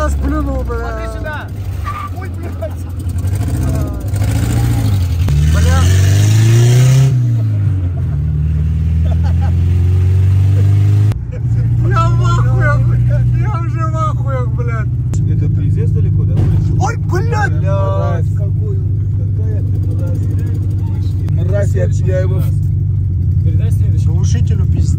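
A car engine revs hard with a rumbling exhaust on a city street, rising and falling in loud surges while people in the car talk throughout.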